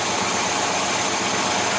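A car engine fitted with a Rochester Quadrajet carburetor idles with a loud, steady, even rumble and no pauses or talking.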